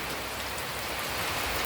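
Steady rain falling during the rainy season, a dense continuous hiss of drops on surfaces, loud and unbroken throughout.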